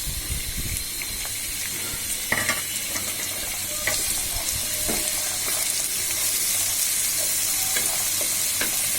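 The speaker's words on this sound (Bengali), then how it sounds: "এই মাসকলার ডালগুলো এবার কিছুক্ষণ ভাজবো" Black gram dal frying with onions in a pan for a vegetable dish, a steady bright sizzle with stirring scrapes and clinks throughout, close and continuous.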